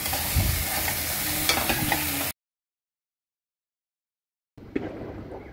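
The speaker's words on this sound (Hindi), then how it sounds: "अब हम डालेंगे कटे हुए टमाटर। अब हम सॉटे करेंगे।" Chopped tomatoes sauté in a pan for tomato soup, giving a steady close sizzle with stirring scrapes; the sound drops out to silence midway, then the sizzling resumes briefly.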